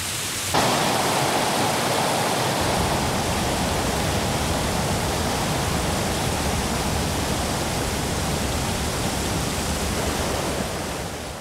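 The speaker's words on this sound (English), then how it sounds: "Over 8 feet of rain may fall during the wet season" Heavy wet-season rain in the Panama rainforest pours down as a steady, dense hiss that starts abruptly and stays loud and even throughout, with no voices.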